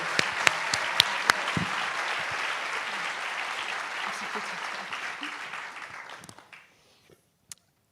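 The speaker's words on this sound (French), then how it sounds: "on va faire un nouveau round d'applaudissements à Singa" Conference audience applause, a sustained crowd clap punctuated by a few sharp, louder claps up close, fading out around six seconds and leaving near silence with one last isolated clap.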